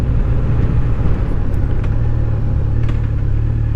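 A Honda CB1100RS motorcycle engine idles with a steady, low, throbbing exhaust rumble, close and even throughout with no change in pace.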